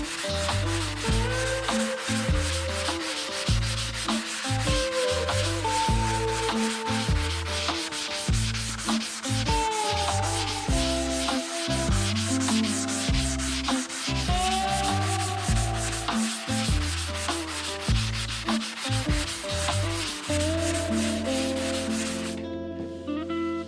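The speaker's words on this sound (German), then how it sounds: "Füllergrundierung muss natürlich das ganze Auto geschliffen werden." Filler primer being sanded by hand across the body of a rare Citroën Dyane Mixta, a steady rhythmic rubbing that repeats in short strokes, close and fairly loud, with no talking.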